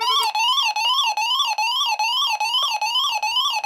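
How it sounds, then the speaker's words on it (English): A DSC marine radio distress alarm sounds a steady, loud electronic warble that repeats in quick, even cycles from start to finish, alone with no voices. "The alarm goes off"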